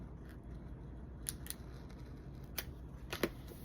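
Scissors cutting paper for a journal, heard as a handful of quick, crisp snips spaced irregularly over a quiet room background.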